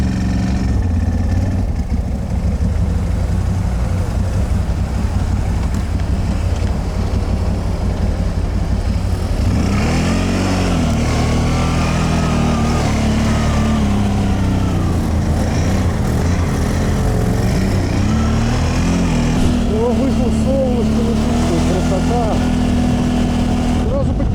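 Quad bikes (ATVs) ride through deep snow, their engines droning loud and close, then rising and falling in pitch as they rev and labor, with voices at times.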